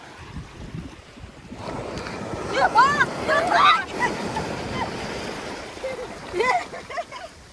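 Sea waves wash steadily onto the shore at a busy seaside spot, a broad continuous rush with gusts of wind noise, while people talk over it nearby.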